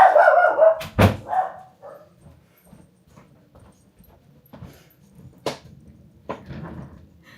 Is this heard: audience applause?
no